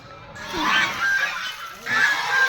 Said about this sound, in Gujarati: જો આ હંસ હંસ કેમ પણ બધા હંસ